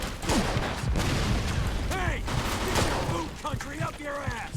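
Rapid bursts of gunfire fill a shootout in Mafia 2, loud sustained volleys with sharp individual shots, while someone talks over the action.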